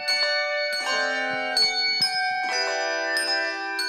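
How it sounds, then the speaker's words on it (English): A handbell choir rings a series of clear, sustained bell tones, with new strikes arriving every half second or so over lingering overlapping resonance, close and fairly loud. "They're trying to play those bells."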